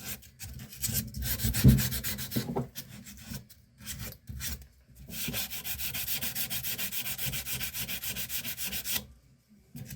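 Rhythmic scraping of sandpaper rubbed by hand without a block over rusty firearm metal, in bursts of back-and-forth strokes with short pauses, close and fairly loud.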